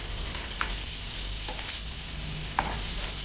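Garlic and onion frying in oil in a pan: a continuous hissing sizzle with a few sharp stirring clinks, close and steady, with no voices.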